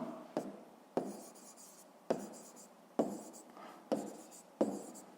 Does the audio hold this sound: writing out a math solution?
yes